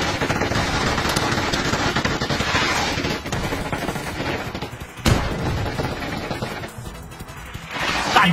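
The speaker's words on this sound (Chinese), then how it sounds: "几乎人手一把 MG3， 有些人甚至2把 MG3， 子弹不要钱的一样啊，突突突就对了。" Heavy MG3 machine guns fire in PUBG Mobile, many of them at once in a dense, continuous rattling barrage with booms and battle noise layered on top.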